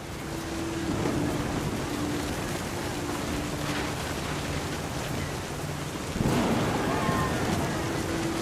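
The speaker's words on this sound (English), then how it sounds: "The thunder sounded much too close and full of angry power" Thunder rumbles in What Remains of Edith Finch, a broad, continuous roar of storm with rain and wind. One louder swell comes near the end, and a voice speaks over it.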